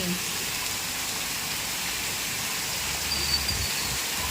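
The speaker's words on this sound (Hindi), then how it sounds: "और बाहर हो रही है बहुत घमासान बारिश, दिखाती हूँ।" Steady, even rain hisses continuously, a dense wash of falling water with no voices.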